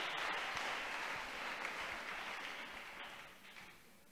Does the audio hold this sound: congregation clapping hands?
yes